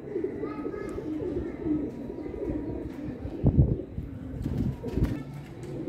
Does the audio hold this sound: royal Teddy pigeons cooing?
yes